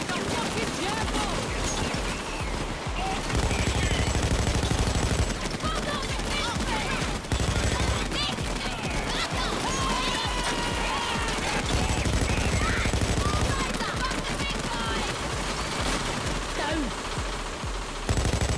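Sustained gunfire from a Payday 2 bank heist shootout in Brooklyn, dense bursts of automatic weapons and rifle shots firing almost nonstop, loud and close, with intermittent shouted talk mixed in.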